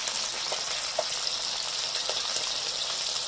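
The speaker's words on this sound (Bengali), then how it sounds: "দ্বিতীয় ভাগ মাছটা এখনো চলছে হ্যাঁ ভাজা" Pieces of parshe fish frying in hot oil in a home kitchen pan, with onion being added alongside; a steady, fairly quiet broadband sizzle runs throughout with small crackles and pops, no talk.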